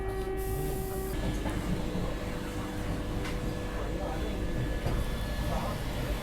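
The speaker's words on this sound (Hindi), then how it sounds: "फिलहाल अपनी ट्रेन फाफामऊ जंक्शन जो है वो पहुँच रही है।" Train running toward Phaphamau Junction on the line to Prayagraj, a steady close rumble of wheels and carriage noise with a brief tonal hum at the start and faint clicking throughout, no talk.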